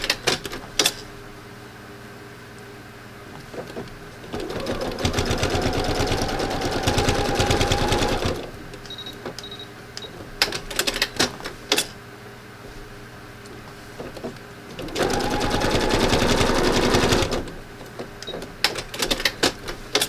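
A sewing machine runs in two sustained bursts of fast, steady stitching while free-motion thread painting over dune grasses in a beach landscape, with quieter clicks and handling noises between the runs.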